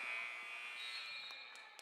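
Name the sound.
basketball game buzzer ending the first quarter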